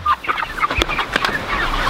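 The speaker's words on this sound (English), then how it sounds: "That's a big rooster right there." Icelandic chickens cluck and squawk in short bursts out on grass, several birds close by, with a louder cackle midway and a busy, irregular rhythm.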